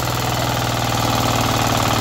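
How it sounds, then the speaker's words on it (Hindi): Kirloskar 9 HP diesel power weeder tilling a sugarcane field, a steady loud chugging engine drone with a rapid regular knocking pulse, close and continuous throughout with no talk. "ये किर्लोस्कर कंपनी का 9 HP में है भाइयों, डीजल का इंजन है।"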